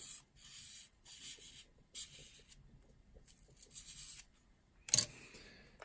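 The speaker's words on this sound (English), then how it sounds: "Do the same thing by lightly sanding the outside of your Aero shaft." Soft, intermittent scratchy rubbing strokes of sandpaper lightly sanding the outside of a hunting arrow shaft, quiet and close, with a brief louder scrape near the end.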